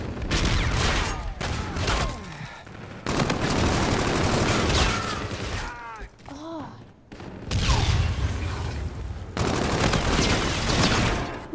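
Sustained bursts of rapid gunfire in the video game Call of Duty: Infinite Warfare, loud and dense with short pauses between volleys and booming impacts mixed in.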